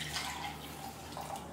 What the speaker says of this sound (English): I'm going to pour it in here just so it's easier to transfer into my vessel